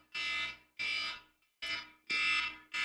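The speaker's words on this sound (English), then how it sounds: "All right, that's my alarm." A personal wake-up alarm sounds in a series of four loud, evenly spaced electronic beeps, each lasting about half a second with short gaps between, close and shrill with no other sound.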